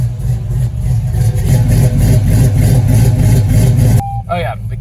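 A Chevy Colorado with a swapped-in LS 5.3 V8 revs hard, a deep rumbling engine note held loud and steady for several seconds before cutting off, then a voice speaks.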